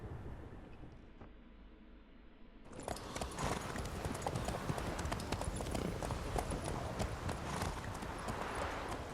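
Horse hooves clip-clop steadily on a road in The Witcher 3 video game, a continuous close rhythmic patter of travel over a loud ambient bed that starts after a quieter opening.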